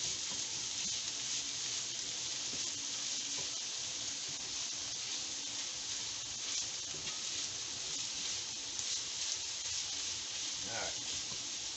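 Garlic being stirred into spicy fried rice in a hot pan, a steady bright sizzle and hiss running throughout with faint scraping of the stirring and soft talk beneath.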